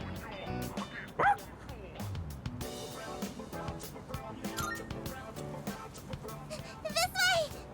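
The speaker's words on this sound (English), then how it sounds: "He accidentally stepped on a doggy's tail. And now he won't stop chasing him." An angry dog in Persona 3 Reload barks, yips and whimpers in short repeated bursts over game music and sound effects, fairly close, with brief higher cries near the end.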